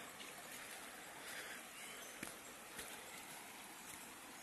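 A river in flood after heavy rain in Bahia, Brazil, rushes past in a steady, dense wash of broadband water noise, constant and fairly near, with a few faint splashes and no voices.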